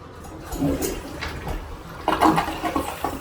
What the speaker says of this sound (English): Fully flushing, functioning toilet.